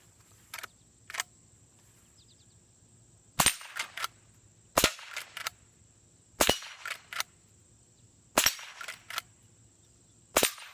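A Marlin Golden 39A lever-action .22 rifle fired outdoors, six sharp, loud shots spaced a second or two apart, each followed by brief clacks of the lever cycling, with a steady high insect-like hum behind and no talk.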